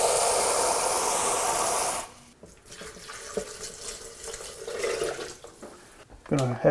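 Water pours steadily into a blender in a loud rush for about two seconds, then stops, followed by quieter handling noises and a brief splash near the end.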